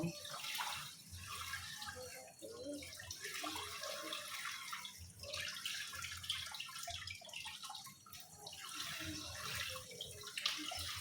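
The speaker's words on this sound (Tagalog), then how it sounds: "Kailangan running water para malinis na malinis." Running water washing fresh scallops in a home kitchen, a steady moderate splashing and trickling stream with soft clinks of shells, continuous throughout.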